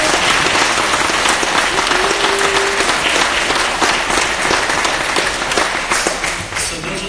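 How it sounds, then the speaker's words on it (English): Loud, sustained round of applause from an audience at a talk, a thick wash of clapping that holds steady for several seconds before easing slightly at the end. "So if you guys give Bill a round of applause."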